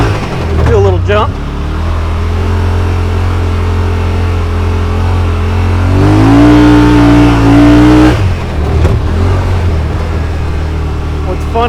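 A 2021 Yamaha Wolverine RMAX2 1000 Limited Edition side-by-side drives along a dirt trail, its engine droning loud and close, rising in a rev midway before easing, with someone talking over it.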